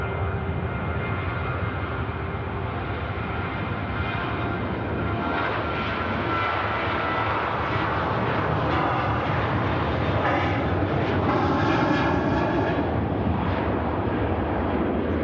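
A Ryanair jet airliner rolling out at Manchester Airport, producing a continuous, broad engine roar that swells slightly towards the end, heard from a distance without talk.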